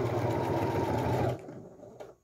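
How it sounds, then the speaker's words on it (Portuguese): A sewing machine stitches a fabric phone and card holder, a steady loud mechanical whir that stops abruptly, followed by a couple of faint clicks. "arremato e finalizo com a costura. Levanto a sapatilha, retiro a peça da máquina"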